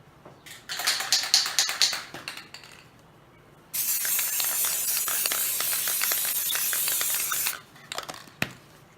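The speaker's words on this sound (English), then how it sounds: "So I'm just going to give this a coat of spray." Aerosol spray hisses in a few short bursts, then one long continuous spray of about four seconds, coating a journal page, with light tapping and handling noises around it.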